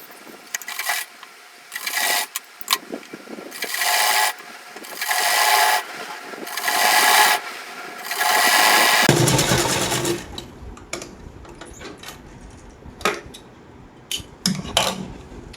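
Sewing machine stitching a plain shamiz, running in several bursts of steady whirring with short pauses between, then lighter handling clatter and fabric movement toward the end.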